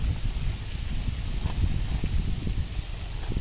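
Strong wind blowing through many trees near a rural smallholding house, a steady roaring rustle with low buffeting gusts against the microphone, no speech.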